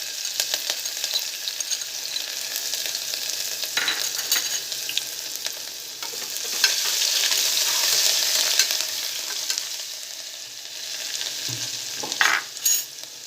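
Chopped chili and grated ginger sizzle and crackle steadily in hot oil in a pan while being stirred, for a potato and pea curry, with scraping stirs near the end and no talking.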